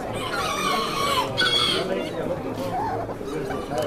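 Rooster clucking at a poultry expo in Houston, with a lively hall of voices and crowd noise underneath; the bird's calls come close and fairly loud in short bursts.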